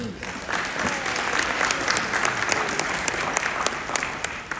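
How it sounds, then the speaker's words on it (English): Audience applause for a group of supervisors at a hospital talk on music and healing, steady clapping that holds evenly through the clip with some faint voices mixed in. "So, round of applause for that."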